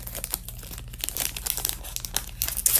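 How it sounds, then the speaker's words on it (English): Close crinkling and crumpling of the thin plastic wrapping on a pack of Panini basketball cards as it is opened with scissors, with small tearing sounds, continuous and fairly quiet. "I'm just going to open it with the scissors"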